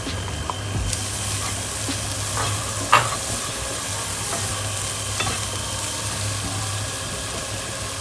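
Grated carrots frying in a pan for chakalaka, a steady soft sizzle with occasional scrapes and clinks from stirring, under a low constant hum.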